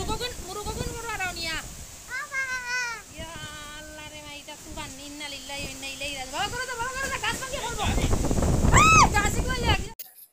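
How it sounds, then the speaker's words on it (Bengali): Strong Kalbaishakhi storm wind batters a tin-roofed house in a sudden rainstorm, a steady rushing roar that swells into heavy close buffeting toward the end, with a person talking over it throughout. "দেখুন কি অবস্থা, কাল বৈশাখীর ঝড়ের মতন"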